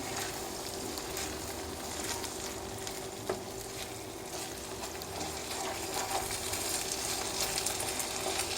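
Stuffing for Turkish olive oil stuffed peppers sizzles steadily in a pot while being stirred, a low continuous frying hiss with faint scraping and a brief clink near the middle.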